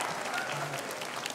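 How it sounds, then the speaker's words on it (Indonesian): A village quiz show audience in Tabanan, Bali, breaks into dense, lively applause, the clapping loud and close with some crowd cheering and a voice briefly mixed in. "sekali lagi dong beri tepuk tangan yang meriah untuk ketiganya"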